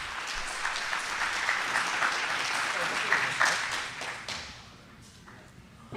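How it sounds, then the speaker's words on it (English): A crowd at a live Seattle stage event gives a dense, loud round of applause that holds steady, then thins and fades away near the end. "Big round of applause."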